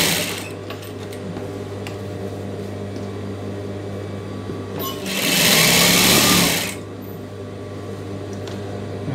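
A tailor's sewing machine stitches a piping collar onto a churidar neck, with a steady low hum throughout and a louder burst of fast stitching in the middle.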